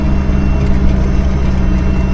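A repaired 5 ton military truck's engine drones loud and close with a steady low rumble as it climbs a snowy mountain road, its revs rising slightly.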